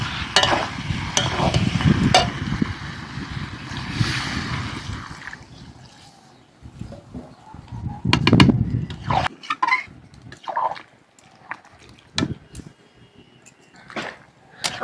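Chicken curry with potatoes sizzling loudly in hot oil as water is poured in, the frying hiss swelling then settling, followed by scattered stirring clinks and scrapes against the pot.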